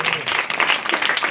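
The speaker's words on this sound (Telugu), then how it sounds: "గట్టిగా చప్పట్లు కొట్టండి." Brief burst of applause from a congregation at a Christmas worship service, a dense patter of many hands clapping, close and loud, no talk over it.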